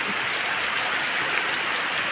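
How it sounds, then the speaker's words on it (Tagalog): Heavy rain easing off while it fills a drum, a steady dense hiss of falling water and splashing drops, close and continuous with no voices. "medyo nahina-hina na po ang ulan"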